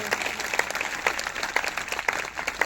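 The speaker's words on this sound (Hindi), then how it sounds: "अगर आए तो जोरदार तालियां बजाएंगे, जोर से जोर से जोर से" Brief burst of clapping from a congregation at a Sunday church meeting, a crowd applauding with uneven, overlapping claps for a couple of seconds.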